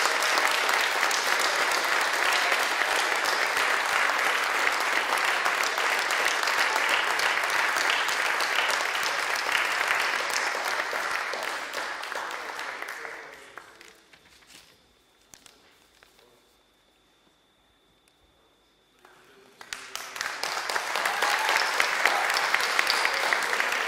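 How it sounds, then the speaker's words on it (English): Audience applause at a students' union enterprise awards ceremony, loud and sustained, fading out to near silence midway, then swelling again into another strong round of clapping. "a round of applause for everyone"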